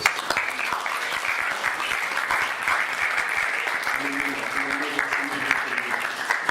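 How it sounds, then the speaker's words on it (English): Sustained applause from a seated audience at a spiritual talk, steady dense clapping throughout, with faint voices and a low hum entering near the end. "we'll just start by giving you all a round of applause"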